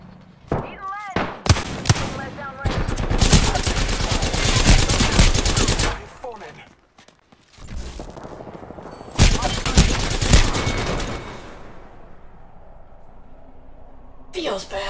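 Gunfire in a shooter video game comes in dense bursts of rapid shots, loud and close, broken by a short lull and then another heavy volley before fading into quieter background sounds.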